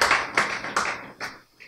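Roughly five distinct hand claps ring out during a Korean lecture, close and fairly loud, spaced about a third of a second apart and fading away at the end.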